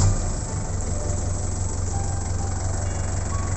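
A Chevrolet LUV engine idles steadily with a low, even rumbling hum, close and constant throughout, with no voices.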